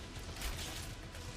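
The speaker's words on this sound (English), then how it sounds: "Changing mags." A weapon magazine swapped during a reload in a blueprint-hunting video game, a short run of soft mechanical clicks and rattles over a low game hum.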